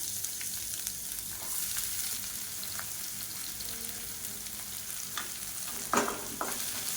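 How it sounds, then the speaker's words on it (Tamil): Onions sautéing in oil with urad dal and curry leaves: a steady, soft frying hiss throughout, with a few spoon scrapes and a louder stirring clatter near the end. "வெங்காயம் நல்லா வதங்கட்டும்."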